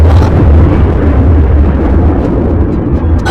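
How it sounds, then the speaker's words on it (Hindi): A huge explosion sound effect booms through a planetarium show, a loud, sustained deep roar rumbling steadily for several seconds with no voices over it. "बीच के इस भयंकर दबाव के कारण एक विशाल विस्फोट हुआ"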